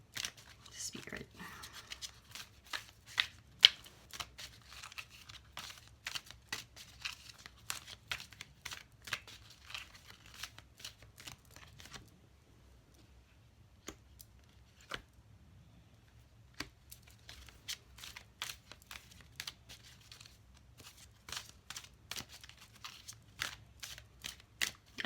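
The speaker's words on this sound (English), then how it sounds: "I have to shuffle them differently because they're too big for my hand" A large oracle card deck being shuffled by hand produces a quick run of crisp riffling clicks, pauses briefly midway, then resumes, close up and fairly quiet with no talking.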